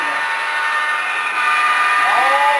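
A freight train of about 30 tank cars rolling past with a continuous loud metallic rumble and screeching wheel squeal rising near the end, heard up close.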